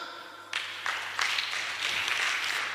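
A church congregation breaks into applause at a Sunday service, starting abruptly and swelling into a sustained burst of clapping lasting a couple of seconds, with no talk over it.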